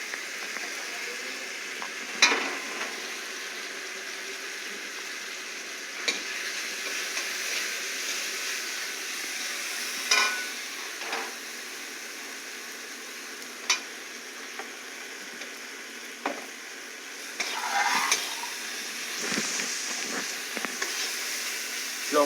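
Home cooking in a pan with chilli, tomato, garam masala and potato, a steady quiet sizzle broken by scattered spatula knocks and stirring scrapes, close by with no talk.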